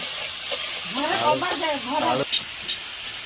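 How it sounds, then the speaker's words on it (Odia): Potatoes fry in a pan in a village home kitchen, giving a steady close sizzle and hiss with a brief voice rising over it partway through. "ଚାଲିଛି ଆଳୁ ଭଜା"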